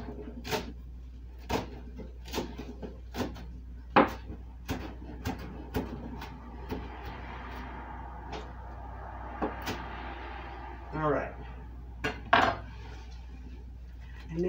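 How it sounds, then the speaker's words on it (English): A knife chops food on a cutting board in a home kitchen with a steady series of sharp, close knocks. Softer clatter and handling noises of utensils and dishes follow. "we're going to finish chopping these"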